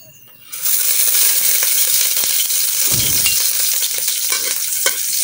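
Ingredients being sautéed in oil in a wok, a loud, steady sizzle that bursts in abruptly and holds, with occasional clinks of a utensil stirring against the pan.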